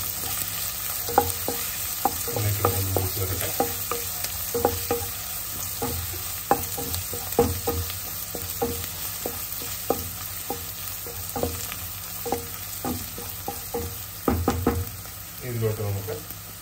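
Chopped ginger frying in a pan for a Kuttanadan-style clam roast, with steady sizzle under repeated sharp clicks and knocks of a spoon stirring against the pan, close and moderately loud.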